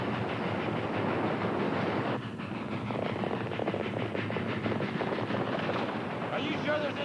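A train engine roars at speed with a dense rumble and rapid chuffing, its noise swelling as the throttle opens, heard as a steady loud wash with voices talking briefly over it.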